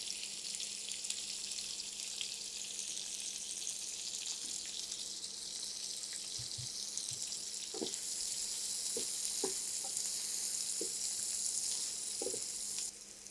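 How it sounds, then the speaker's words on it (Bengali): Small onions cut into round slices sizzle steadily in hot oil after fish has been fried, a continuous bright hiss with occasional soft clinks and stirring knocks, no talking. "এই তেলটার মধ্যে এখানে আমি ছোটো ছোটো 4টা পেঁয়াজ গোল গোল করে কেটে নিয়েছি"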